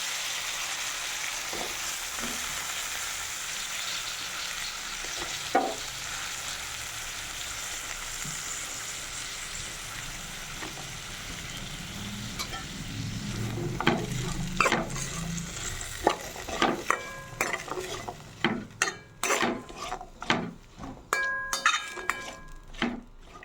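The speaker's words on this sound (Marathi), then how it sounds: "भाजी तेल सुटेपर्यंत फ्राय होत आहे" Steady oil sizzle of cluster beans frying in a pan, joined later by busy stirring scrapes and clanks of a spoon against metal.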